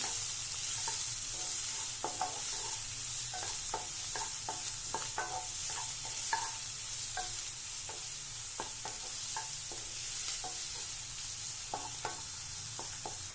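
Onions frying in a pan until golden brown hiss with a soft, even sizzle, punctuated by regular spatula taps and scrapes against the pan, with no speech.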